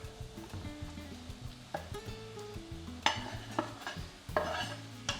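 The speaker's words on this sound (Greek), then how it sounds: "Ανακατεύω και αφήνουμε να σοταριστούν μαζί." Wooden spoon stirring and scraping onion and mushrooms as they sauté in a pan for mushroom piroshki, with soft sizzling underneath and a few sharper clinks of utensil against the pan, close and fairly quiet.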